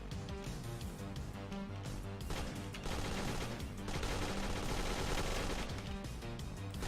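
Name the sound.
gunshots in a video game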